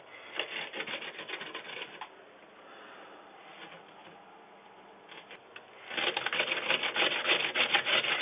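Potatoes rubbed against a sharp metal grater for Kartoffelpuffer, a close, steady rasping scrape in bursts, fading softer mid-way and then returning louder with fast repeated strokes.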